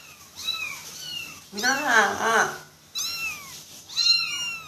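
Several kitten meows, some high and bending, come close and clear, with people talking loudly over them in the middle and between calls.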